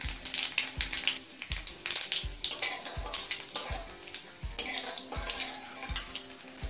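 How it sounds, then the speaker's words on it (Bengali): Half a spoon of nigella seeds fries in two tablespoons of hot mustard oil in a kadai, crackling and sizzling while a spatula scrapes and stirs in a steady rhythm of repeated strokes, loud and close. "কালো জিরেটা একটু ভেজে নিয়েছি।"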